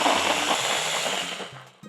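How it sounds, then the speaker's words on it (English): An electric kitchen blender whirs steadily as it purées olive oil, oregano and other ingredients for a Puerto Rican-style venison stew, a loud continuous motor drone that fades slightly before cutting off near the end. "Now we blend."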